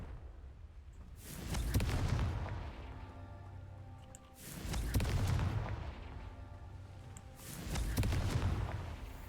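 A Confringo blast spell from a Harry Potter wizarding video game, with three loud booming explosion-like bursts spaced about three seconds apart, each a broad rumbling crash that swells and fades over a low background hum.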